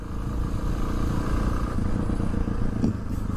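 A Honda XR650R motorcycle engine runs at a steady idle or low throttle, a continuous close rumble with some mechanical clatter and no talking.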